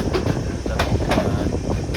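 A train nears Kankavli station, its carriages giving a steady low rumble with faint rhythmic clicks and wind noise, heard close from on board.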